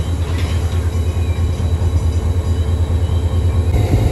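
A train rolls into Landhi railway station with a loud, close, continuous low rumble and rhythmic rail clatter, plus a faint high whine above it.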